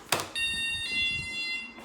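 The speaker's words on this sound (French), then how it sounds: "Je vais pranker Julien le musicien en activant l'alarme." A buzzing electronic alarm deliberately triggered indoors as a prank sounds loudly and steadily after a sharp knock, its bright multi-tone drone holding for over a second.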